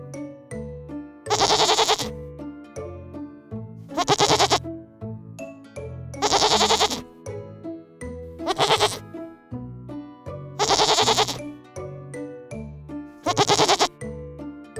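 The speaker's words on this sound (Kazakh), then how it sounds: "Бұл ешкі. Ешкі ме, ме дейді." A goat bleats loudly and close in six regular bursts spaced about two seconds apart, each a wavering nasal cry set over a continuous children's song backing.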